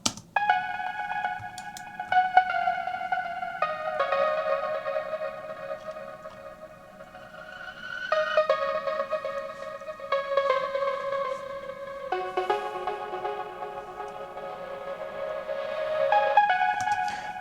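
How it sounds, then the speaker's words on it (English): Synth lead pluck melody built in Serum from two layered synths on basic waveforms, a bright electronic riff of repeating plucked notes shifting pitch every couple of seconds, played alone at moderate loudness. "So the lead pluck melody sounds like this"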